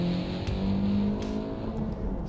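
A front-wheel-drive car with a manual gearbox runs a fast lap, its engine droning loud and steady at high revs from close inside the cabin.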